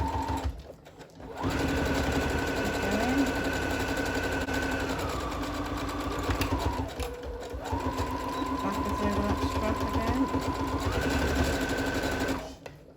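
A sewing machine stitches forward and backward along a tote bag strap, running in two long steady bursts with a brief pause to reverse between them, close and loud with no talking.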